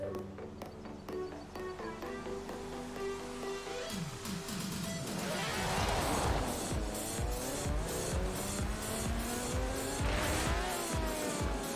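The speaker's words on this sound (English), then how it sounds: "Nice, this is my McLaren P1. It's like a rocket." A McLaren P1 race car in Forza, its engine droning and rising through gears with sweeping pitch climbs, tires squealing and skidding as the car accelerates hard, loud and steady throughout.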